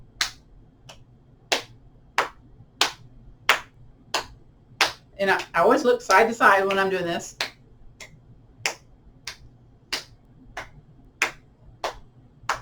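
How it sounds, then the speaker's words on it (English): Soft cupped-hand taps into the elbow pit during a seated chair yoga lymphatic drainage tapping sequence, a steady series of about fifteen crisp, close pats at an even rhythm, with someone speaking briefly midway. "the one that we do in our hand tapping sequence is that soft cupped hand into the elbow pit"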